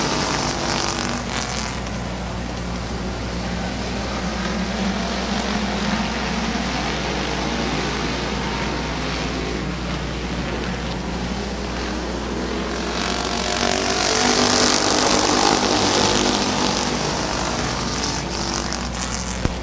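Race cars at Midvale Speedway roar around the oval in a steady, dense engine drone with a pack bunched bumper to bumper, swelling louder as cars pass near, no talk over it.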